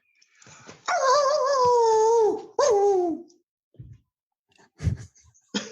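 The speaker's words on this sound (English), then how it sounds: "My dog's starting to growl in the background now." A dog vocalizes nearby with a long, drawn-out whining howl that bends downward, then breaks off into a few short, low grumbles and yips.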